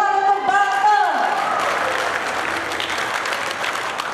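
Applause breaks out for a team at a national law-awareness competition final, a dense burst of clapping that starts as a voice finishes speaking and then continues evenly, moderately loud.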